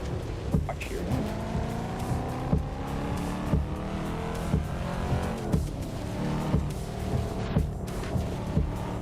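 A car in a Volvo driving simulator game runs with a continuous engine drone and shifting pitch, punctuated by regular clicks or bumps, with no voices over it.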